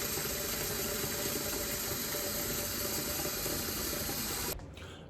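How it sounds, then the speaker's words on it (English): Tap water pours steadily into gallon-size plastic bags, a loud, continuous rushing splash close by that cuts off abruptly just before the end. "fill these bags up with water"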